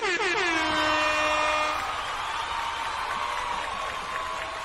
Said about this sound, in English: trying to replace the air horn being used for everything